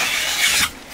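A metal spatula or trowel scrapes excess filler compound off screw heads in a gypsum fibre board wall, one close, rasping drag that ends abruptly, with no speech.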